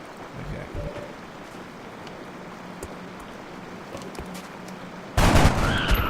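Squad gunfire in XCOM: Long War, with a few scattered shots and faint crackles at first, then a loud, dense burst of firing near the end.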